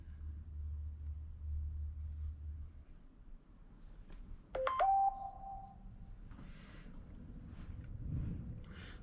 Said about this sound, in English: Papa's phone is making noises.